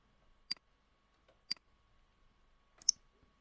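Three sharp, isolated mouse or keyboard clicks spaced about a second apart, the last a quick double, crisp and close against near silence while a polygon is drawn in CorelDRAW.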